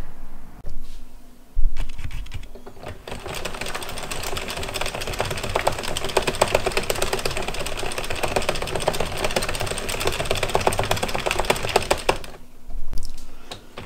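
An addi Express Kingsize knitting machine is cranked through rows, making a fast, even mechanical clatter of clicking needles that runs steadily for about ten seconds between quieter handling noises.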